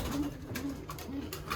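A racing pigeon, a blue bar hen, coos softly in a loft, with a few low repeated coos close by over a faint background hum and no talking.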